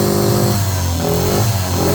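A Suzuki outboard motor runs loud and close with a steady buzzing drone and slight rises in pitch like light revving, with no voices.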